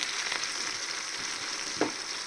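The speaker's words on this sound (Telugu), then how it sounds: "ఇవి కూడా వేసుకుని వేయించుకుందాము" Spices frying in hot oil for a tuna fish pickle give a steady, close sizzle with one brief sharp crackle near the end, and no one speaks.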